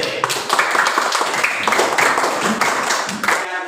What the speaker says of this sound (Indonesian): sekali lagi tepuk tangan untuk kelas 8B